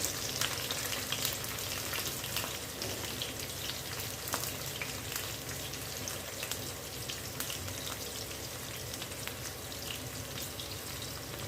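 Sliced onion and green chilli sautéing in hot oil with cardamom and clove for vegetable pulao, a steady close crackling sizzle with scattered pops and occasional stirring, no talk.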